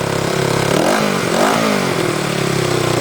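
A 33-year-old Honda CB360T motorcycle engine runs steadily nearby, a loud continuous mechanical drone with a slight rise in revs midway and no voices.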